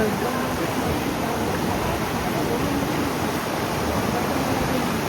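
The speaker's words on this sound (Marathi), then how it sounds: "खूप पाणी पडत आहे रे भाई" Heavy water pouring and rushing across flooded village farm fields during monsoon rain, a loud, steady broadband roar with no break throughout.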